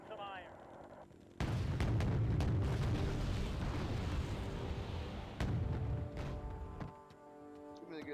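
Rocket artillery barrage in the modded video game Wargame: Red Dragon, with a sudden roaring wall of heavy rumbling explosions that holds for several seconds, loud and close, then thins out with scattered cracks and a brief voice near the start.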